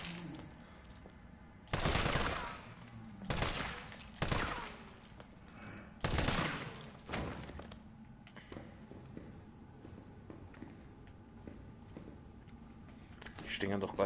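Bursts of rapid automatic gunfire in the survival horror game Resident Evil 3, several separate volleys spaced a second or two apart, loud against a quiet background, with someone speaking in between.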